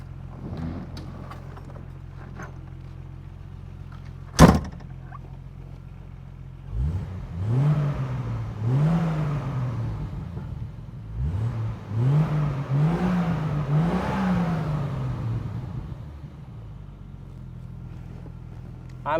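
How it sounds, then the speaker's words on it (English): A 1969 Triumph TR6 engine idles, then is revved in several rising and falling bursts close by, after a sharp thump near the start. "I'll give it some revs so you can see it."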